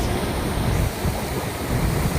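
Rough sea surf at Madhavpur beach, a constant loud wash of breaking waves mixed with wind buffeting the microphone, with no voices.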